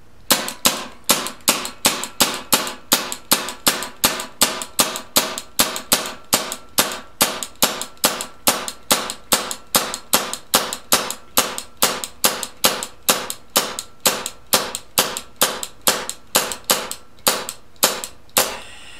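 Paintball marker firing a long string of sharp repeated shots at a steady, fairly quick rhythm, each pop loud and close, continuing for nearly twenty seconds without talk.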